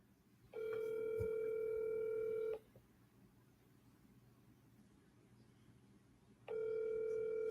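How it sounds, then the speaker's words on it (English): A telephone call tone sounds as someone calls a cell phone: two steady, fairly loud tones, each lasting about two seconds, separated by a quiet pause. "Yes, Frank, you're calling my cell phone again."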